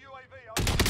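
A sudden loud blast of gunfire in Call of Duty Warzone erupts right after a brief moment of voice, dense and close for under half a second.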